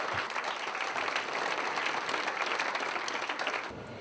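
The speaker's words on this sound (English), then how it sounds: "Let's give them a massive round of applause" An audience at a 2014 South African literary awards ceremony applauds the headline sponsor, a dense, even wash of clapping from a large crowd lasting about four seconds before tapering off.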